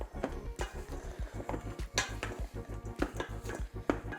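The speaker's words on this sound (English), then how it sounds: "And then gently toss it, because now that it's simmered, it's a little softer." Simmered tempeh patty pieces tossed in a pan, rhythmic clattering and scraping taps repeating steadily, close and moderately loud, with no talking.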